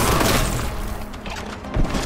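Heavy bolter-style gunfire in the retro shooter Warhammer 40K Boltgun, dense booming shots and crashes rolling together in a loud continuous barrage.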